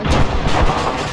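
A bomb exploding in the ArmA 3 military video game: a loud, dense, booming blast with sustained rumble filling the whole second, close and overpowering.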